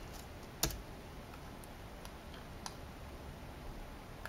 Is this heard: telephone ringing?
no